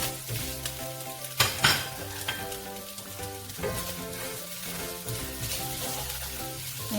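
Garlic sautéing in a pan, with a steady sizzle and frying hiss plus scraping stirring strokes and a couple of sharp utensil clinks against the pan, for a Spanish fideuá pasta dish.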